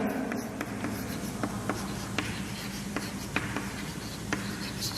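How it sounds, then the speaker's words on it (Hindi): Chalk or marker scratching across a classroom board while a definition is written during a chemistry lecture, a steady series of short taps and strokes, close and moderately loud, with no talk over it. "तो यहां पे हम डेफिनेशन लिख देते हैं"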